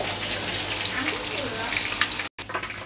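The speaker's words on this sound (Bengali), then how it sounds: "আর এদিকে এবারে আলুটা ভাজা বসিয়ে দিয়েছি" Potato pieces fry in hot oil in a home kitchen, a steady close sizzle and crackle with a short break near the end.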